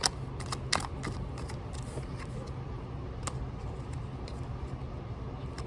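Playing cards being shuffled up close, with sticky cards giving irregular bursts of riffling snaps and soft scraping clicks over a low background hum, no talking.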